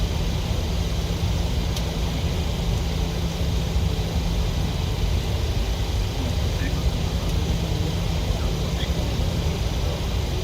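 A PMDG 737-800 BBJ2 takes off in MSFS2020, a continuous loud engine roar with steady low rumble and broadband jet noise that never lets up, with no voices heard.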